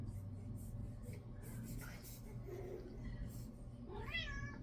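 A pet cat moves around beside a camera during an indoor makeup session, with soft shuffling and handling noises followed by a short, close, rising meow near the end.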